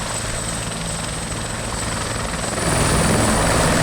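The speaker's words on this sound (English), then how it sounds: "the helicopter should take off and head to its next waypoint" A helicopter in the video game ArmA 2 powering up to take off, a steady loud rotor and engine drone that swells louder toward the end, with no talk over it.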